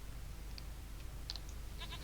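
Goat bleats in The Witcher 3, a few short nasal calls scattered over a steady low ambient game hum, with a quick double bleat in the middle and a wavering cluster near the end, fairly faint and with no talking.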